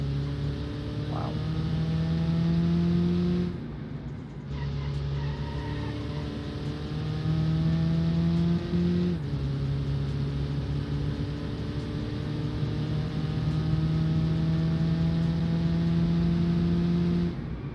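Turbo diesel car engine droning under load with steady harmonic tones that rise slowly as it accelerates, then drops briefly at the shift points and bogs down, sustained and fairly loud.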